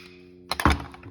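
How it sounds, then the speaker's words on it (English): A PVC pipe cutter snaps through a plastic bushing for a Bradford White water heater power vent, giving a few quick clicks then one solid close thunk and crack. "I'm going to use this PVC pipe cutter"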